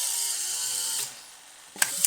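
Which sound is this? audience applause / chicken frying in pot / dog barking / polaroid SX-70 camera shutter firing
polaroid SX-70 camera shutter firing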